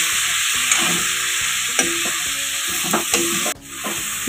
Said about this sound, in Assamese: এনেকৈ মই চিকেনখিনি অলপমান ভাজি ল'ম।